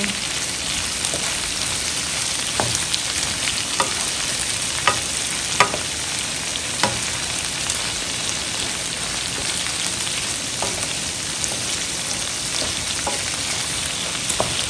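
Shrimp and garlic fry in a pan with a continuous crackling sizzle, broken by scattered sharp ticks and scrapes as the pan is stirred.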